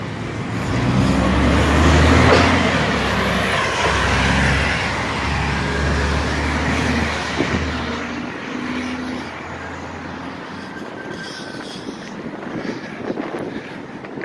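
A bus passing on a road, heard as a loud, steady rumble of engine and road noise with wind buffeting the microphone, swelling early on and then easing to a quieter traffic background.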